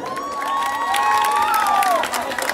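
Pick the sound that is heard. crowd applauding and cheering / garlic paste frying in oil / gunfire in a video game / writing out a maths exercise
crowd applauding and cheering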